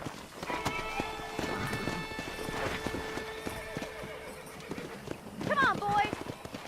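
Horse hooves clip-clop at a ranch in the Red Dead Redemption video game, with a horse whinnying near the end over game music and talk.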